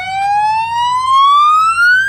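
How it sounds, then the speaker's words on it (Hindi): A police-style siren horn fitted on a motorcycle wails in one loud, close, steadily rising electronic tone that holds clearly for a couple of seconds. "पुलिस वाला हॉर्न भी लगा हुआ है।"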